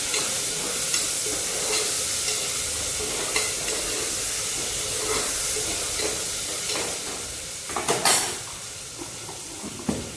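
Potatoes sizzle steadily in a pan during tempering, with a constant close hiss and occasional stirring strokes, then a brief burst of louder scraping and clatter toward the end; no one speaks.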